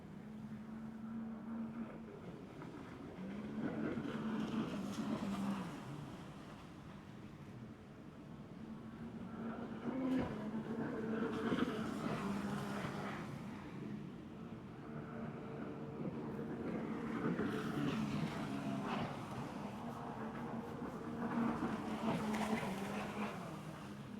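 Runabout GP2 jetskis race on water at a Baltic series round in Pärnu, Estonia, their engines a faint distant whine that rises and falls as they pass.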